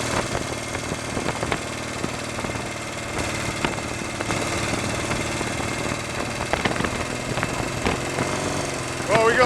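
A Royal Enfield Interceptor 750 Series 2 motorcycle running with a slipping clutch, its engine droning steadily with a rough vibrating rumble and small surges, heard close while someone talks over it throughout.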